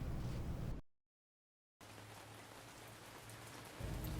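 Steady, dense rain pours down loudly, a continuous hiss broken by one abrupt second of total silence before the downpour resumes at a similar level.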